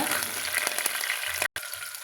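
Close, steady sizzle of garlic and fenugreek frying in hot oil, with a few crackles and a brief dropout near the end.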